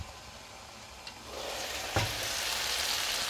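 Parsley hits a hot pan with sautéed carrots and mushrooms, and a close, bright sizzle swells quickly, with a small tap and then a sharper burst as it settles into a steady hiss.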